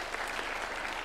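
A crowd at a UDA National Governing Council meeting applauds senators and members of parliament with dense, continuous clapping heard at a moderate distance, steady throughout.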